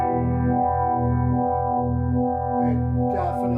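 Electric guitar sustaining a chord through a Nux Monterey Vibe pedal on its vibe setting, a thick, pulsing, wobbling modulation that swells in a steady rhythm, loud and close with no talking.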